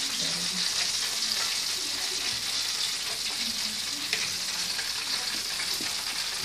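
Steady loud sizzling of chukar partridge (sukholapiki, tabaka style) frying in a pan, a continuous crackling hiss with occasional faint clinks.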